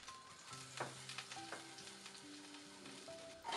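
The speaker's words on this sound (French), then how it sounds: "Dans la même sauteuse et toujours à feu vif, une cuillère à soupe d'huile, faire revenir l'ail 10 secondes" Garlic frying in a tablespoon of oil in a sauté pan over high heat, a steady sizzle close by with faint clinks and tonal kitchen sounds layered over it, no talking.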